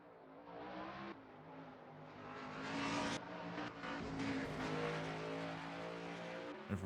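Race cars in a racing video game at Road America, GT3 class, engines droning steadily with rising revs and gear shifts, a loud continuous whine with no talk.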